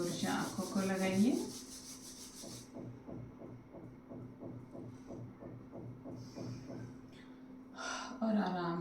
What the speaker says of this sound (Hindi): हाथों को रब कीजिए और आंखों को लगाइए।